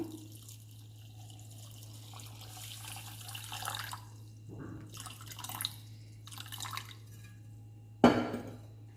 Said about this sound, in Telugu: పంచదార మునిగేంత వరకు వాటర్ తీసుకుందాము